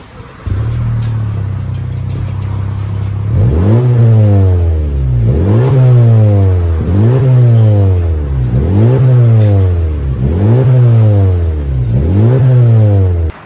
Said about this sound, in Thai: เดี๋ยวเราไปฟังเสียงกันว่า ท่อตัวนี้เสียงไม่ดัง